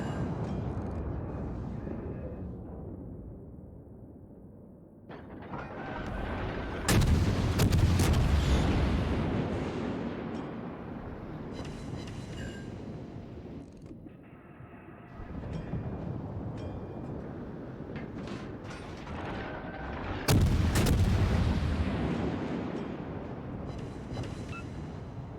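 Warship main guns firing high explosive shells in World of Warships, heavy booming salvos landing near 7 and 20 seconds over a continuous roar of battle and sea, with no talk.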